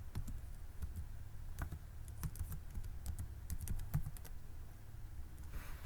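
Steady keystrokes on a computer keyboard, a quick irregular run of clicks with a low hum underneath, close and moderately loud, with no voices.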